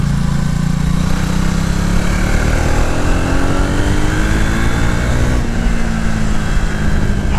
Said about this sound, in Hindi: Just twist the throttle and it is ready to move.